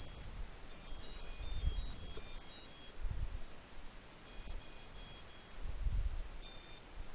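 Electronic speed controllers on a MonsterQuads XR225 racing quadcopter play calibration tones during Raceflight One setup: three groups of bright, rapid electronic beeps, each burst of clustered tones repeating in quick succession, with near-silence between.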